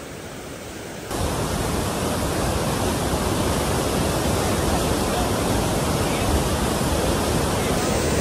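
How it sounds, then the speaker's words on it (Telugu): After a quiet second, the roar of Kanda Falls, a waterfall on the route to Mount Katao in North Sikkim, swells into a loud, continuous, dense rush of falling water that holds steady. "అదిరిపోయే ఫాల్స్. ఈ ఫాల్స్ పేరు వచ్చి కండా ఫాల్స్."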